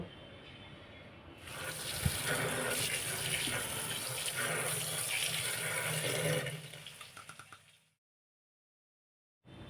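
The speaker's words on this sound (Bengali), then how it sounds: "এটাকে আমি এই নোংরাটা ধুয়ে নেওয়ার জন্য আমি ঠান্ডা জলে ফের ধুয়ে নেব" Cold tap water runs steadily for about five seconds while raw green banana is rinsed clean in a kitchen sink, then the flow shuts off into silence.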